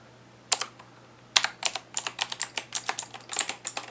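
Keys clatter on an inexpensive $25 mechanical keyboard, crisp close clicks typed in a quick, irregular rhythm after a couple of isolated presses, with a faint steady hum underneath.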